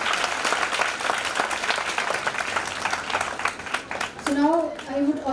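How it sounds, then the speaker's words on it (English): Audience applause fills a hall at an international nursing conference on evidence-based nursing care, a dense, steady clapping that runs for several seconds before a voice starts speaking over its tail. "So big round of applause for Sir and very welcome you, sir."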